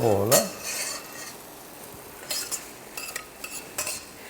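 Onion goes into a pan for Bahian moqueca, sparked by a sharp clink of utensil on metal, then stirred with intermittent scrapes and taps over a soft, quiet sizzle.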